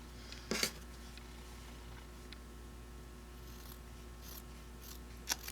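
Sharp fabric shears snip quilt fabric pieces cut from charm packs, two short crisp bursts of cutting a few seconds apart against a quiet room hum, with no talking.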